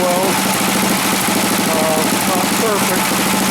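A small engine on a homemade cart idles steadily after carburetor work, a continuous close, even putter with a regular pulsing beat and no pauses.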